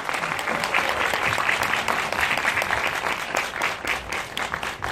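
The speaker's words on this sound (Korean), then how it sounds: "박수 부탁드릴게요" An audience applauds at a screening Q&A for the film Our Body as the director and actresses come out, a steady, moderately loud wash of clapping for the whole stretch.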